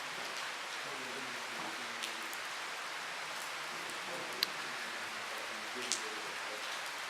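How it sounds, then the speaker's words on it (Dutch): Heavy rain falls steadily at an abandoned site in Germany, a dense, even hiss of drops lasting throughout, with a few faint sharper taps and low murmuring voices underneath. "Het regent hier verzot."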